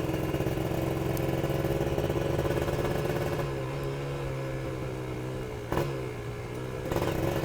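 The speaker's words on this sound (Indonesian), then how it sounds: "coba di sini gue bakalan gas tipis-tipis di depan ya" A Kawasaki Ninja two-stroke motorcycle engine runs close up, droning steadily and then easing off, with short sharp blips of throttle near the end and no one talking.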